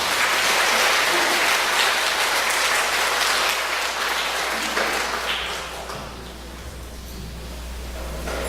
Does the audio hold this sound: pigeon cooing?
no